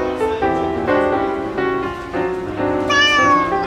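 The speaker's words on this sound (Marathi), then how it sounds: "वाटेत त्यांनी पाहिलं की एक मांजर जोर जोरात त्यांच्या दिशेने धावत येत आहे." Cartoon cat meowing loudly and repeatedly as it runs toward the mice, a string of close, tonal yowls ending in a higher, drawn-out cry.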